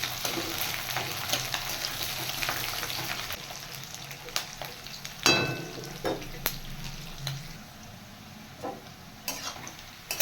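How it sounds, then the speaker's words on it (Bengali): Thickly sliced onions fry in a pan of oil with a soft, continuous sizzle. A utensil stirs them with occasional scrapes and clicks, one louder clatter standing out midway. "এবার আমি কেটে রাখা পেঁয়াজ ভেজে নেব।"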